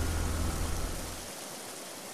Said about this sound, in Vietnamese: Tự nhiên lại mưa to thế chứ.